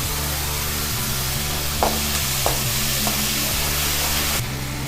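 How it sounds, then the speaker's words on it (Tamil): Steady sizzling of onions and tomatoes sautéing in a pan, continuous and close, with a few soft scraping stirs and faint knocks partway through. "நறுக்கி வச்ச வெங்காயம் போட்டு ஒரு வதக்கலாம்"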